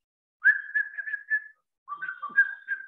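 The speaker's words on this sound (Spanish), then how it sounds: "Y va silbando nomás." A person whistles a simple melodic tune in two separate phrases with a short pause between them, clear and close with no talking.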